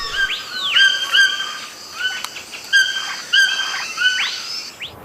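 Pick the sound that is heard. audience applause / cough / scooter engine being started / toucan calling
toucan calling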